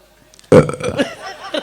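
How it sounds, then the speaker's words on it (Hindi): A man lets out a loud, abrupt burp that rumbles on for about a second, the sound rough and rolling as it trails off. "ये डकार लेना एक बार।"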